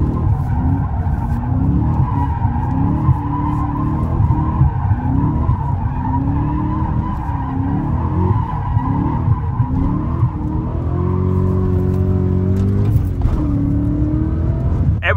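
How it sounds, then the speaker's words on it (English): BMW M5 E39 doing donuts in a desert ghost town, a loud continuous tire skid with the engine revving and wavering in repeated cycles, close and sustained, then the engine note steadying toward the end. "Let's do a few more donuts here and then we get out."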